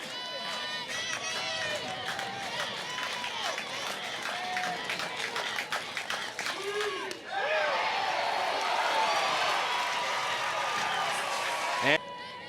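A college softball crowd at Alabama versus Auburn swelling into loud, sustained cheering and shouting after a stretch of murmuring stadium noise, with a whistle-like squeal rising near the end.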